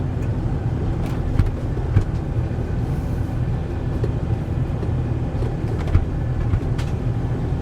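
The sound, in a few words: RV driving over speed bumps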